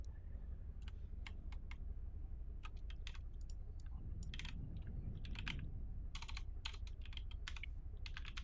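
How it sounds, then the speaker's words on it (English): Rapid typing on a computer keyboard, bursts of quick clicking keystrokes with short pauses, close and fairly quiet over a steady low background hum, no voices. "Let me type his nickname correctly."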